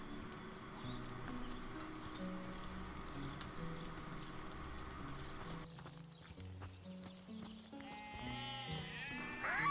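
A sheep bleats in a farmyard in the fantasy role-playing game Divinity: Original Sin. The short wavering bleats come toward the end over soft background music and clopping hooves, all fairly quiet.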